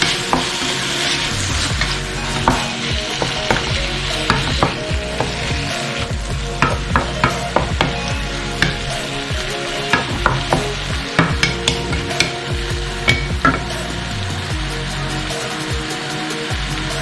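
Tomatoes stir-fried in a wok for curry chicken give a continuous close sizzle, broken by repeated scraping and knocking of the spatula against the pan.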